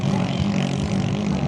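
A 17 to 17.5 HP racing engine from a team race drones at a steady high pitch, a continuous loud buzzing whine with no talk over it.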